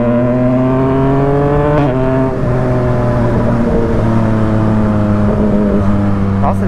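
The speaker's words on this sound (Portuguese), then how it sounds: "A moto já tá com escapamento." A brand-new Yamaha MT-09 motorcycle with a Jeskap exhaust rumbles loud and close, its engine tone shifting as it revs through gears, while riders talk over it.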